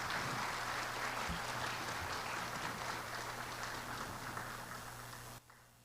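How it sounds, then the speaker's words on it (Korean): Steady applause from an audience at the opening of a Dongguk University education forum, a dense, even round of clapping over a low hum that holds for several seconds before cutting off abruptly. "큰 박수 부탁드리겠습니다"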